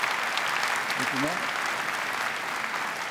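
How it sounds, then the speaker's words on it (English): Steady applause from a conference audience at Unreal Fest Orlando, even and sustained, with a brief voice speaking over it partway through. "I'd like everyone to give a round of applause"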